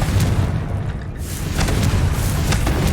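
A Confringo spell explodes in the video game Hogwarts Legacy, heard as a loud, heavy boom and rumbling blast that fills the whole moment with dense low roar and crackle.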